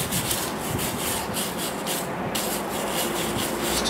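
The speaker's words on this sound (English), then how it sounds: "Just hitting it with a light bristle brush." A light bristle brush scrubs a rusty metal part after a chemical rust-dissolving dip, making a continuous, even scratchy rubbing heard close up, with brief rhythmic strokes and no voices.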